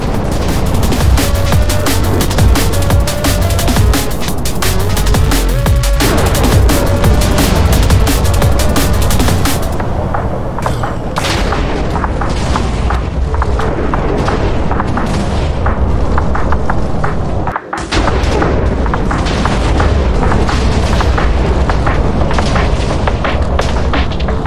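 Bomb explosions from the gun devil in Minecraft, a dense, continuous barrage of loud booms and gunfire-like blasts that keeps pounding, with no talk.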